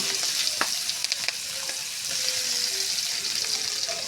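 Cinnamon and chopped onion fry in hot oil for a Bengali fish curry, giving a dense, continuous sizzle with a few light clicks and scrapes of a spatula against the pan.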